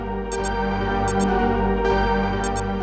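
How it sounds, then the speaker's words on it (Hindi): Watch alarm beeping in quick high double beeps, repeating three times at regular intervals, sounding over a loud dramatic music bed. "ये घड़ी की अलार्म की आवाज है सर,"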